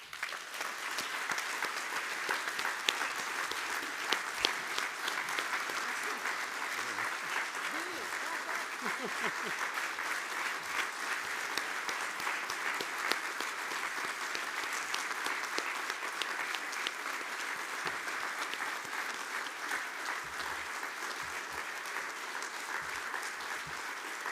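Sustained applause fills a hall at a farmers' union general assembly after the president's moral report, steady dense clapping from a large audience holding at an even level throughout.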